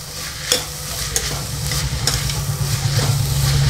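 Shallots stirred while frying in oil in a pan for a Kerala-style chicken curry: a steady, close sizzle broken by repeated scraping strokes of the spoon.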